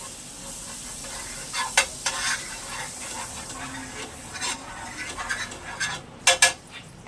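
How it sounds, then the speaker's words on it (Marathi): Butter melts in a preheated pan before a pizza goes on, giving a close, steady sizzle with hiss, and sharp metallic clinks and scrapes of utensils against the pan, with no talk. "पॅन आपण प्रीहीटसाठी ठेवलेला होता त्याच्यामध्ये आपण थोडा बटर टाकून घेऊया"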